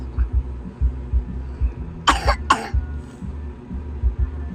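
Two sharp coughs close together midway, heard over a low, rhythmic thumping background.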